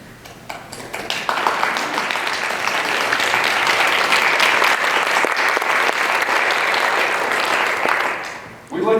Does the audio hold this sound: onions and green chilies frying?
no